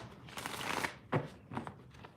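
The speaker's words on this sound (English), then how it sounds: "I'm shuffling the cards, waiting for somebody." A deck of tarot cards is shuffled by hand, giving soft riffling and crackling bursts followed by a couple of sharper slaps, quiet and close with no talking.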